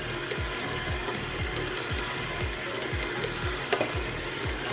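Mashed potatoes being mixed with salt, pepper and whole milk, a steady rhythmic churning with repeating low whooshes about every half second, close and continuous.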